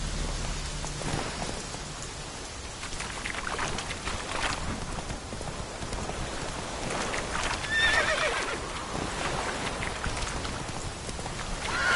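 Roach the horse in The Witcher whinnies and clops along in steady rain, hoofbeats and rainfall continuous and close.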